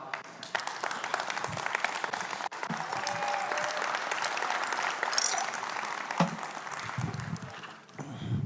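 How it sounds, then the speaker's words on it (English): An audience at a company presentation applauds steadily for several seconds, a dense wash of claps from a room full of people, fairly distant and even, fading near the end. "So once again, applause for Vladi."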